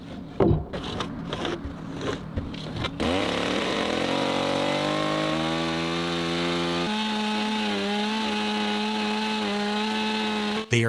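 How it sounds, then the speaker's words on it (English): After a few sharp knocks, a chainsaw starts up and cuts through a long wooden beam for a porch roof, its engine whining loud and steady with shifting pitch as it bites the wood. "They are cutting the long piece of wood with a chainsaw"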